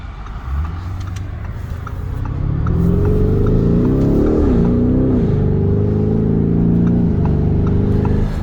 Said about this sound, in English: this thing has like an exhaust system called 360, and it envelops the whole cabin with noise